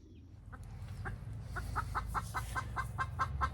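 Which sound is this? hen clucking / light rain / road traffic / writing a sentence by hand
hen clucking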